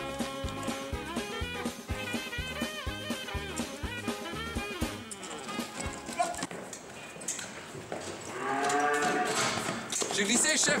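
Cattle mooing on an agricultural high school farm in Radinghem: drawn-out, wavering lows rise near the end, following a rhythmic, music-like passage, fairly loud and close.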